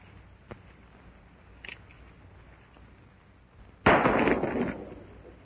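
A single sharp, loud shot from an old gun cracks out near the end, preceded by faint quiet background and small knocks.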